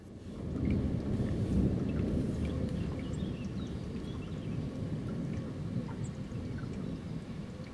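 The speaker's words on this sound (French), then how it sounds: "Un coup de tonnerre, un coup de châtaigne." Thunder rumbles through a nighttime thunderstorm over Amboise, France: a deep, continuous roll that swells early and stays loud, with rain hissing underneath and no voices.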